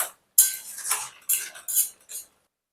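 Jackfruit curry is stirred in a pot, giving a few short, close metallic scrapes and clinks of a spoon in quick bursts separated by silence, with no talking.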